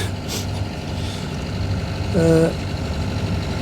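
A boat engine idles steadily at about 600 rpm with a low rumble throughout, with a brief rising tonal whine partway through as the revs pick up slightly, on the Norfolk Broads.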